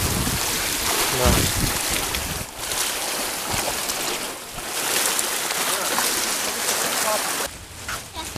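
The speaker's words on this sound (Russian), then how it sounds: "Пляж Чавенг." Surf at Chaweng Beach on Samui island, a broad hissing wash of waves breaking and receding in uneven surges, fairly loud and close, with no speech over it.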